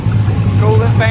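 Race car engine running near, a steady low rumble with harmonic tones and a brief rising whine near the end, with a voice over it.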